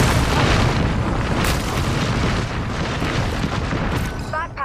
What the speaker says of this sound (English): Got a tag on him. Airstrike.